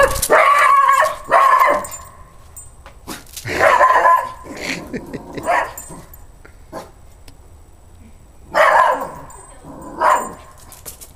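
A dog barks loudly and close by in several bursts, some sharp and yipping, with quieter gaps and faint whimpering between.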